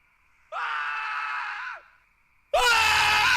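Two loud screams in a narrated horror story, a sustained wailing cry about a second long followed after a short pause by a second harsher, louder shriek that cuts off the end.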